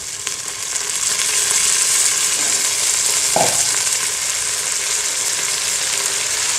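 Chicken frying in a pan with coriander and mint for chicken pulav, a steady bright sizzle holding throughout with one short thud partway through, no voices.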